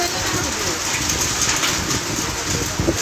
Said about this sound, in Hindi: बारिश एकदम बरस रही है और सर्द हवाएं भी लगातार चल रही हैं